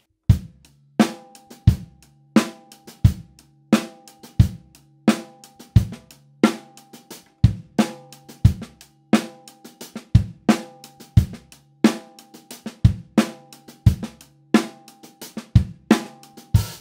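A drum groove built on ghost notes: strong, regular kick and snare hits with quiet snare taps filling the spaces between them, repeating steadily for about seventeen seconds with no talking.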